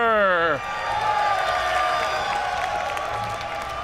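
A large crowd at a StarCraft esports tournament, the Red Bull Battle Grounds, applauds and cheers in a steady, loud roar that follows a brief excited shout and lasts the whole stretch.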